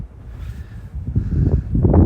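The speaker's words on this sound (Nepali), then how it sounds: "चिसो हावा लागिरहेछ अहिले पनि" Cold wind blows outdoors in Canada after a big snowstorm, a low buffeting rumble against the microphone that starts soft and grows louder and rougher toward the end.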